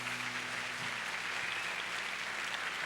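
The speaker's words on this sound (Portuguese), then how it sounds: "Dá uma salva de palmas bem forte para Jesus" A church congregation applauds loudly and continuously, a dense sustained wash of clapping filling the room, with a low steady hum from instruments or amplification underneath.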